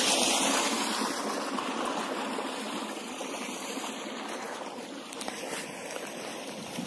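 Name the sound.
water gushing out of irrigation pipeline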